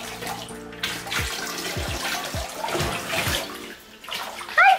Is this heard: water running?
yes